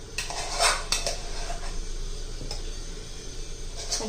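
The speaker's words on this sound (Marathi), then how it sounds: "आता मी एक मिक्सरचं भांडं घेते आणि त्याच्यामध्ये राहिलेला आपला हा शिल्लक जो भात आहे रात्रीचा तो घालून घेते" Leftover sticky Indrayani rice from the night before is spooned into a steel mixer jar, with sharp metal clinks and scrapes near the start and lighter taps later over a quiet kitchen background.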